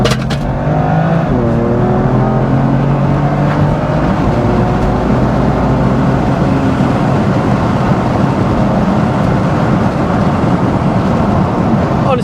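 A BMW M2 Competition F87, a short-wheelbase car with over 400 horsepower, accelerating hard in second gear, its engine note loud and continuous with rising tones throughout, heard from inside the car.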